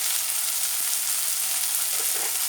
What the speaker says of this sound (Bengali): অল্প করে জল দিয়ে আমি মশলাটা কষাবো, যাতে মশলাটা পুড়ে না যায়।